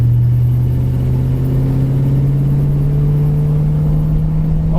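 A 1966 Ford Thunderbird's 390 V8 pulls hard under acceleration, a loud, steady engine drone climbing gradually in pitch for the whole stretch with no voices over it.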